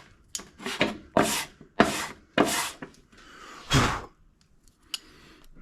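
Warped John Deere X540 mower cylinder head rubbed back and forth on sandpaper, six rasping scraping strokes in an uneven rhythm, close and fairly loud, followed by a short click.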